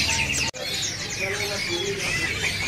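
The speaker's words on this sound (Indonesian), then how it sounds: "Di sini juga ada burung cabe-cabean gacor ya. Cabe-cabean Jawa gacor." A caged Javan flowerpecker (cabe-cabean) offered for sale sings in dense, high, rapid chirps and trills that continue without a break, with a busy murmur of voices and bird-market noise underneath.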